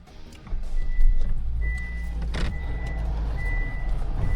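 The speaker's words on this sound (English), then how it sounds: "even with the car alarm going off" A car alarm goes off during a theft on a Chicago street, sounding as a string of repeated high electronic tones over a constant low vehicle rumble, fairly close and without talking.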